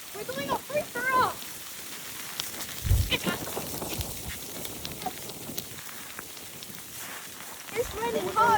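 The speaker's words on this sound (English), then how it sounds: "It's raining hard." Heavy rain during a snowy storm makes a steady, soft hiss of falling drops, with excited voices and squeals at the start and end and a few louder thumps.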